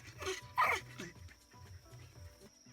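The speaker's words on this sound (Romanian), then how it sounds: "Și arată un câine în Amazon." A dog in the Amazon region gives a couple of short, close barks and whimpering yelps, with quieter rustling and movement in between.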